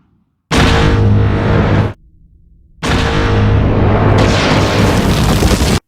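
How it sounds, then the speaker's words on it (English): Star Wars: Attack of the Clones seismic charge effect from the asteroid field chase, two long loud booming bursts with a deep rumbling roar, separated by a brief near-silent gap. "That scene with the seismic charge sound effect."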